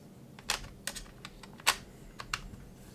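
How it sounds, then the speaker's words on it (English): Spacers clicked into the trackpad area of a modular, repairable laptop, giving a handful of sharp, irregular plastic clicks close up against a quiet background. "If I want it centered with the actual keyboard here, then I just pop in these spacers"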